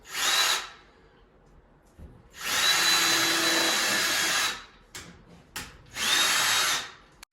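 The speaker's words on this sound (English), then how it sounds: "But then I'll go ahead and drill in my holes" A power drill whirs loudly in three separate bursts while drilling holes in a bathroom wall, the middle one longest, with short pauses and faint clicks between them.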